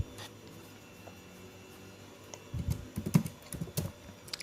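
Typing code on a computer keyboard in Microsoft Visual Studio: a few scattered taps, then a quick burst of close, clicky keystrokes in uneven rhythm near the end.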